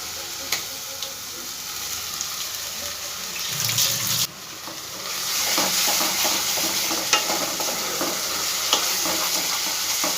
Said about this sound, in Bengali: পেঁয়াজটাকে একটু 2 সেকেন্ডের মতন ভাজা ভাজা করে নেব।